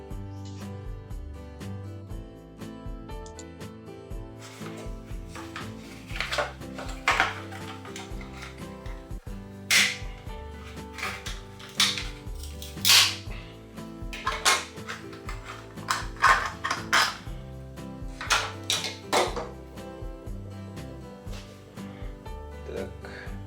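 Plastic packaging rustles and clicks as a Miol Articul 99-010 ratchet pruning shear, 200 mm long, is unpacked, with a run of sharp mechanical clacks and snaps standing out clearly over the handling noise.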